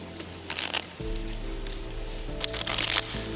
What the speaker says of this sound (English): just give him a riffle shuffle